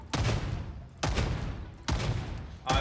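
Gunfire in the game Darktide, three heavy booming bursts of rapid shots a little under a second apart, loud and close with no talk over them.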